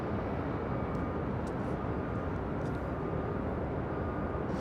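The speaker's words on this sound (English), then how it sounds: "Next arrival here on the north side is Delta Connection SkyWest Flight 4135, coming in from Sacramento in an E175LL." A Delta Connection SkyWest Embraer E175 arriving at LAX from Sacramento produces a steady, broad jet engine rumble at moderate distance, constant throughout with no talk.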